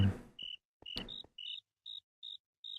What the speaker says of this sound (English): man, crickets are annoying